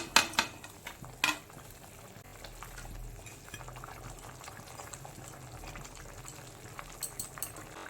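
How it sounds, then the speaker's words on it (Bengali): Fish curry gravy with papaya and potato bubbling at a steady boil in a pot over a gas flame, a continuous close simmering burble with a few louder pops and stirring clinks near the start and again near the end. "ঝোলটাকে ভালো করে ফুটিয়ে নেব। ঝোলটা ফুটে গেছে।"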